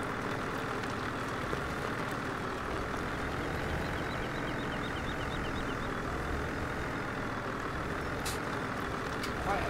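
Heavy truck pulling a log trailer in Farming Simulator 17, reversing up to a wood stack to tip its load, with a steady low engine drone throughout and a faint high beeping near the middle, constant and close.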